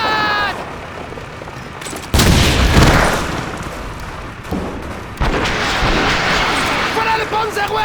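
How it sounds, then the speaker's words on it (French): Grenade blasts and gunfire in Call of Duty 2, a World War II shooter: two heavy booming bursts a few seconds apart, each followed by crackling battle noise, with voices shouting through the fighting. "Grenade!"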